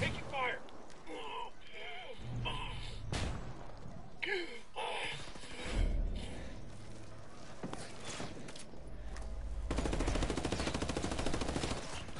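Bursts of automatic and single gunshots in Ghost Recon multiplayer combat, scattered sharp cracks with a heavier sustained barrage near the end, under players talking and breathing.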